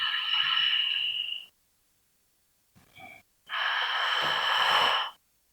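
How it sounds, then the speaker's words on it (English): A deep, audible breath during a power yoga flow: a long, loud exhale, a pause, a short catch, then another long breath, close and alone with no talking. "Big inhale, big exhale."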